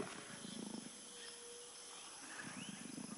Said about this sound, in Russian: Ягуары ревут, чтобы указать свое местонахождение.